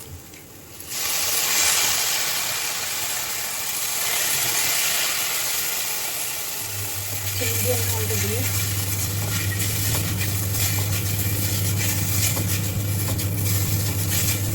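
Onions caramelizing in a home kitchen pan give off a steady broadband sizzle and hiss that runs through the whole stretch, with a low hum joining partway through.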